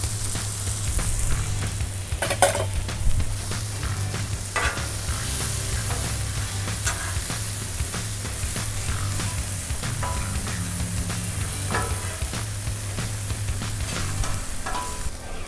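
Onions, mushrooms and bell peppers fry on a griddle for Philly cheesesteak, with a continuous loud sizzle broken by occasional scrapes of stirring and a low steady hum underneath.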